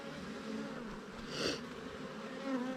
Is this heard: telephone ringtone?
no